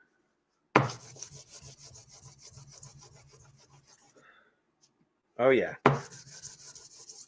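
Sanding a flat-bottomed lightsaber part with a sanding block, a steady rubbing scrape running for several seconds close by, then stopping, followed by two short louder bursts near the end; a brief voice speaks.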